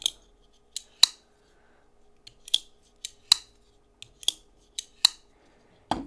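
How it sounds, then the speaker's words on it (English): A folding knife's blade is opened and locked out over and over, each time with a sharp, chunky metallic click, about a dozen crisp close snaps spaced irregularly against near silence. "It's got a really kind of chunky click when it locks out."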